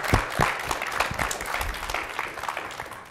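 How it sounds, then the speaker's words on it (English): An audience at an event where the president speaks to students breaks into applause, dense clapping that holds steady and close for a few seconds with no talk over it. "the president and libraries all deserve a round of applause for what they've done this year"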